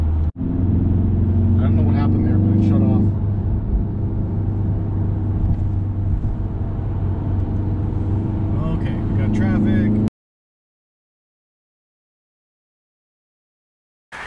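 A 2018 Volkswagen Golf R Mark 7.5 cruising on a highway, a loud steady engine and road drone from inside the cabin for about ten seconds, then cutting to silence.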